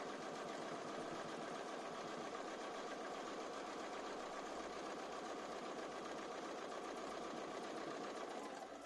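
A Bernina B590 sewing machine stitches a quilt-as-you-go block, running in a steady, fast, even whir with a continuous needle patter and no pause throughout.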